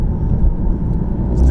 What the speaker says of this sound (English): can y'all hear the exhaust? It sound a little different, huh?